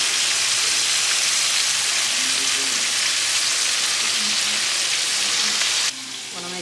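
Chicken fries in hot oil, giving a loud, steady sizzle that fills the whole stretch, with faint faraway tones underneath before the hiss drops off abruptly near the end.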